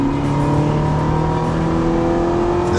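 A Ferrari California T, a 560-horsepower turbocharged car, accelerates hard with a loud, steady engine roar that climbs in pitch over a few seconds, close and alone without talk.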